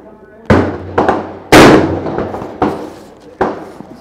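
Rifle fire at a 600-yard target, five sharp cracks spaced irregularly about a second apart, each trailing off in a brief echo, the third shot the loudest.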